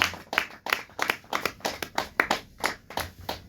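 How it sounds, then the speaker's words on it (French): A church congregation claps in steady rhythmic unison to acclaim Jesus, a dense run of sharp, even hand claps from many people, close and lively, with no talk over it. "Nous pouvons acclamer Jésus-Christ de Nazareth."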